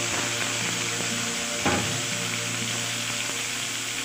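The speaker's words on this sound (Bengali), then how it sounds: "তো চিংড়ি মাছগুলোকে আমি হালকা করে ভেজে নেব" Prawns fry lightly in a pan with a steady, close sizzle that holds at an even level throughout, broken once by a single brief knock partway through.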